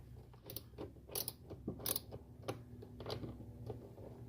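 A 5/16 wrench tightens the parking brake lock bolt on a Can-Am Ryker, giving a quick run of close ratcheting clicks and small metallic ticks over a low background hum.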